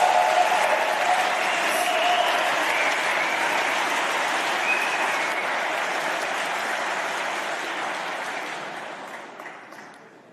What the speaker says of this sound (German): Dankeschön für den Applaus.